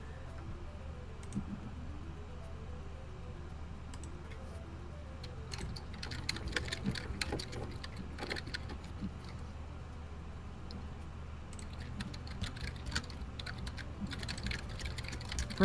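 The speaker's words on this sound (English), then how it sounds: "Brent, what are you typing?" Computer keyboard typing right next to a microphone, a continuous patter of close, crisp key clicks with denser bursts, over a faint background hum.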